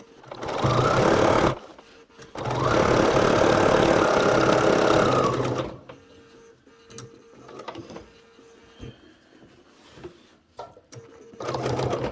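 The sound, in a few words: sewing machine sewing quilt binding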